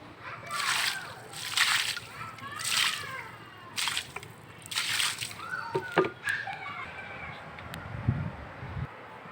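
Water pours and sloshes over potted rooftop plants, including aloe vera, in repeated bursts of splashing, close and fairly loud, with a voice and a little wind in the background.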